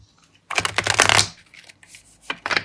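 Tarot card deck being shuffled by hand, a short burst of rapid papery riffling and flicking, then a pause and a few brief softer card shuffles near the mic.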